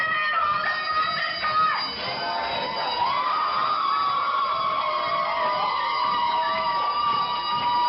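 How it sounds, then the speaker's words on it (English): A fire alarm rings in a steady, piercing electronic tone while a crowd of feminist protesters cheers and shouts loudly underneath, the alarm sustained and dominant throughout. "The fire alarm then goes off and the feminists cheer like banshees"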